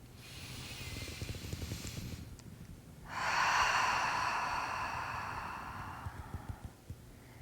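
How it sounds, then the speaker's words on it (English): One big, slow breath during a guided stress and muscle relaxation exercise, a soft airy inhale followed by a long breathy exhale of about four seconds, close and alone. "Take a big breath."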